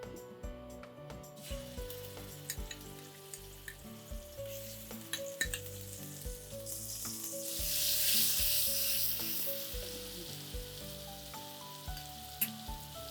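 Green masala paste frying in a pan for whole masoor curry, a close, steady sizzle with intermittent spoon taps and stirring, swelling into a louder hiss partway through.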